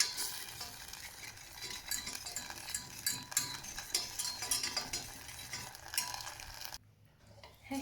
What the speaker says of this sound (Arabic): نبقاو كنخلطوا فيها بهاد الخلاط.